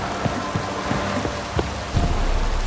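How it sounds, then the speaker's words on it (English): Steady rain falls in The Witcher 3: Wild Hunt, a dense even hiss of drops on surfaces with a few heavier spatters, close and continuous with no voices. "Looks like rain"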